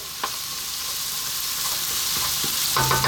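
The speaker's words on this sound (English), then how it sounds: "We're now going to put in our fresh chili." Whole fresh chilies drop into hot oil for a cheese and peas curry, a steady close sizzle with a few soft clinks and a brief louder burst of frying near the end, no voices.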